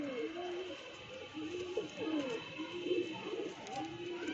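Pigeons, a male and a female, coo in soft, repeated rolling calls close by, overlapping in a steady rhythm with no talk.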